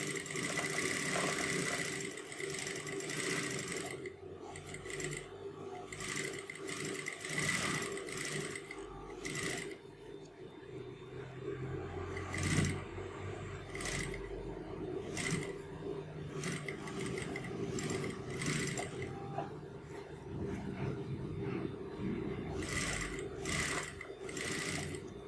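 A sewing machine stitches a kanchali blouse at a slow pace, running in a steady mechanical drone broken by repeated short pauses and restarts, close and fairly loud.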